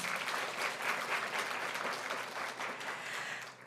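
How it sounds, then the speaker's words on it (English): An audience at a women's award ceremony and inauguration breaks into sustained applause, a dense wash of many hands clapping in a hall at moderate distance, fading slightly toward the end. "Can you give him a round of applause?"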